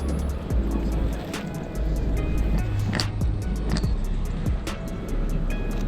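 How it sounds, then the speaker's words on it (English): A car rolls past on a rainy London street, its engine and tyres swelling and fading against steady rain, with sharp camera shutter clicks and brief talk nearby. "Another car's going to get in my way."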